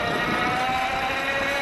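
A homemade electric bike, its motor pushed to full throttle at about 2.2 kilowatts and 40 amps, gives a steady, loud whine with a rushing wind noise that holds evenly throughout.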